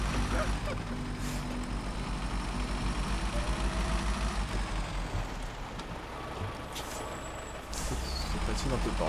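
A heavy truck in the SnowRunner video game brakes and shifts down into first gear, its engine rumbling loudly and steadily throughout, with a brief air-brake hiss and some chatter layered over it.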